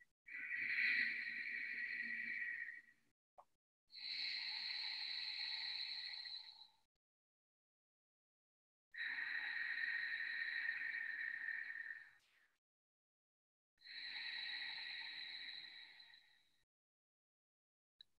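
Four slow, quiet breaths in and out through the nose with the mouth closed, each lasting a few seconds with a soft humming, whistly tone, with short pauses.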